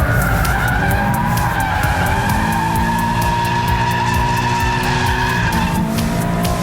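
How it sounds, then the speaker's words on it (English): Loud, sustained tyre screech as a Toyota GT86 power slides through a corner, engine droning underneath, the squeal holding steady for several seconds. "That was definitely a power slide."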